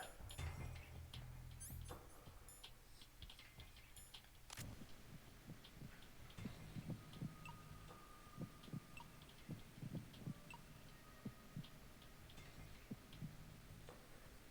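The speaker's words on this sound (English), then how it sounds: "You can hear the faint pacemaker with the heartbeat that's going." A faint pacemaker-like heartbeat ticks steadily in Metal Gear Solid 2 during a bomb-defusal scene, soft rhythmic thumps repeating under a low hum and game ambience.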